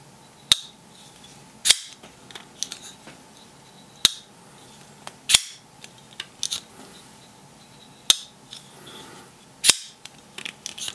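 Close-miked Shirogorov F95T folding knife flipping open and closing repeatedly, giving sharp metallic snaps and lighter clicks in an uneven series with no speech.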